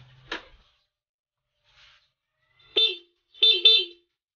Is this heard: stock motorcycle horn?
yes